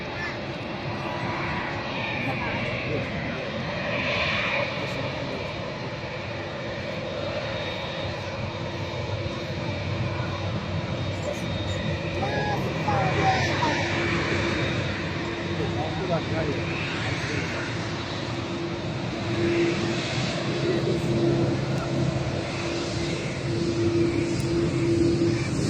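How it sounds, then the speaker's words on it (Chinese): A China Southern Boeing 787 jet taxis past at close range, its engines a steady broad roar and whine throughout with the drone swelling toward the end, while people talk over it. "看一下这边的南航波音787也过来了"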